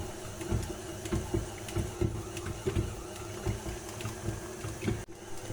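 A stand mixer kneads pizza dough with a low, steady motor hum and regular rhythmic thumps as the dough turns, fairly quiet and close, with no talking.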